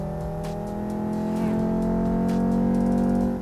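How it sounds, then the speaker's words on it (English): Simulated race car engine resembling a five-cylinder Volvo S60R roars steadily through a desktop speaker in a racing simulator, a sustained droning tone that swells slightly louder toward the end. "this sounds very much like a Volvo S60R, the 5-cylinder roar"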